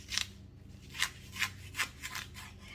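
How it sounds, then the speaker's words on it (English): A knife slices a leek lengthwise in half, giving a series of soft, crisp cutting strokes close by in a quiet kitchen. "I'm gonna cut this in half down lengthwise"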